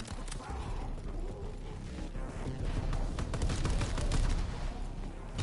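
Rapid bursts of explosive-round gunfire in the World War II shooter Call of Duty: WWII, dense and continuous with clattering mechanical impacts, loud and close throughout.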